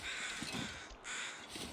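Crows cawing in the survival video game The Long Dark, a few harsh caws over a constant windy wilderness background, with no talk.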